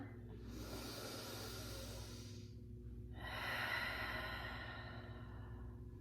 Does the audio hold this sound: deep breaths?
yes